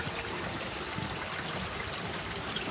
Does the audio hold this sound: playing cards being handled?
no